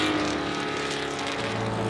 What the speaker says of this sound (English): It's going to be a Filippinetti Ferrari 250 LM on track ahead of the Lavender Cup.